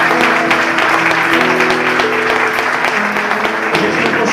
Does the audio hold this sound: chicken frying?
no